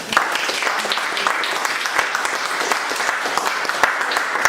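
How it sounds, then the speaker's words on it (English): An audience at a school debate gives steady, sustained applause, many hands clapping in a dense, even patter from start to finish. "Round of applause"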